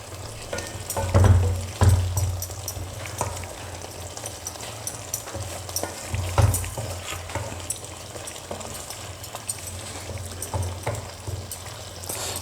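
Chicken curry gravy is stirred in a pan, with a steady sizzle under the scraping and soft thuds of a spoon moving through it, close and alone.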